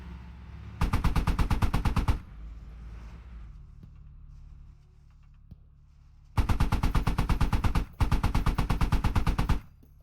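A mounted gun in a video game fires two long, rapid automatic bursts, loud and close, with a quiet gap between them filled by faint background noise.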